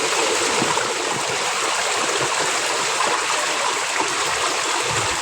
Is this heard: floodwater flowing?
yes